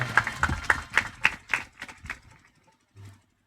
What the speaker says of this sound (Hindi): जरा ताली बजा दे अभिनंदन के लिए जरा एक बार